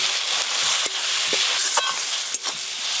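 Ginger, garlic, onion, chili powder and cumin powder frying into a fish masala, a close, steady sizzle broken by a few sharp clacks of stirring, with no voices.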